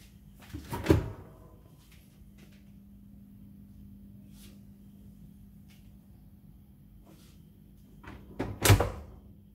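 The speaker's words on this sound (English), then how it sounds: "because I opened the door a bit and let some cold air out" Door of a Hitachi R-WB550PT2 refrigerator opened and then shut, two clear thumps about eight seconds apart with a low compressor hum running steadily between them.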